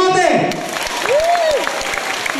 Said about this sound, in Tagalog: bigyan natin ang lakas ng sigaw at palakpak